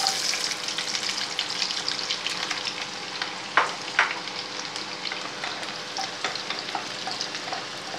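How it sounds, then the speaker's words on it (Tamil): Onions frying in hot oil in a pan for a prawn gravy, a steady close sizzle with a few brief stirring knocks and clinks, no voices. "இப்போ வந்து வெங்காயத்தை போடுவோம்"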